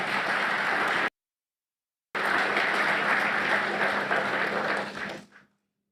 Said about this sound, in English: you should give your central bank a round of applause for that